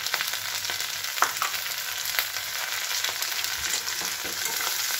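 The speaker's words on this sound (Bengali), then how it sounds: "এবার আমি এটা ফ্রাই করব।" Potato and onion stalks with salt and turmeric fry in a pan, a steady close sizzle with a few soft stirring scrapes and clicks and no talk.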